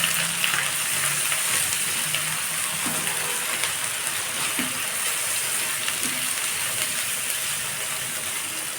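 Onions frying in a pan with garlic paste and ginger paste mixed in, a steady close sizzle running throughout with soft scraping stirs now and then.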